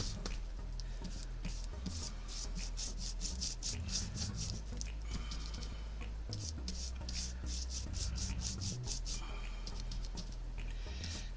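Waverly antique wax is rubbed onto a small wooden Christmas sign, with close, repeated scrubbing and wiping strokes in an uneven rhythm over faint background music.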